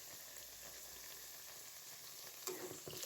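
Spinach puris frying in hot oil over a medium flame, giving a steady, faint sizzle throughout, with a slight bubbling flare near the end and no voices.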